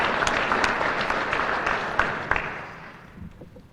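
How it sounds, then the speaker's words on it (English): Audience applause at a 2022 State of the City address in Jackson, Michigan, a fairly loud burst of clapping with distinct sharp claps that gradually fades toward the end. "that absolutely deserves an applause"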